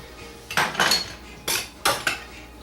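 Kitchen knives, including boning knives with rosewood and composite handles, clink and clatter as they are picked up and set down, with four or five distinct metallic clusters close by and no talk.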